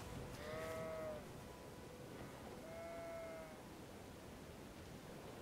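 Sheep in the Elden Ring video game bleating twice, each a short wavering call over a steady background hiss of game ambience, with no talk.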